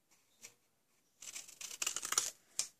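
Scissors snip a strip of scrap cardstock while making a slider box with Stampin' Up craft supplies: a faint single cut, a pause, then a louder run of crisp snipping and paper rustle, ending with one final snip.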